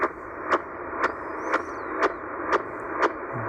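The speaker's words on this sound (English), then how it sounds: "There's some CODAR signals coming in." Faint shortwave radio static hisses steadily while regular sharp chirps of a coastal CODAR wave-measuring radar repeat about twice a second, a rhythmic swept pulse buried in the noise, received outdoors around 13-14 MHz.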